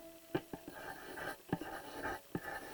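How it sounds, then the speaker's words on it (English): A colored pencil strokes across paper in a landscape drawing, soft and close, with repeated scratchy back-and-forth passes and small taps between them. "Okay, you can also use your colored pencils."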